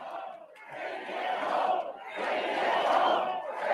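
Large rally crowd at a Canada First political event in Fredericton, cheering and roaring loudly and continuously, swelling in two broad waves with a brief dip between them.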